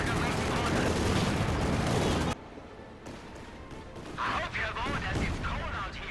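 Artillery shells pounding a northern area in the World War II strategy game Company of Heroes 2, a dense roar of loud blasts for two seconds, then quieter scattered explosions and gunfire with a commentator talking over it.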